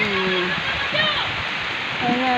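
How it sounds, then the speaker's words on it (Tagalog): Heavy rain falls in a dense, steady roar outdoors where children play in the downpour, with voices rising faintly over the constant wash. "Ayan, lakas ng ulan."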